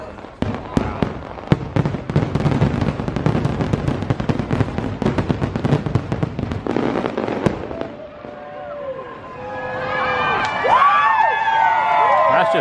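New Year's Eve fireworks crack and boom in rapid bursts over Walt Disney World right after Fantasy in the Sky, loud and dense, then give way to crackling and whistling effects as a crowd cheers and shouts.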